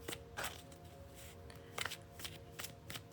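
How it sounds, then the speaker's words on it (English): A deck of tarot reading cards is shuffled close by: soft, quick riffling bursts repeat irregularly over a faint background hum, with no talking. "Let me shuffle the cards."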